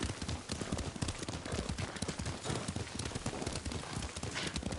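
Dense, steady clip-clop of a horse's hooves while riding in the samurai video game Ghost of Tsushima, continuous and fairly close, with no voices.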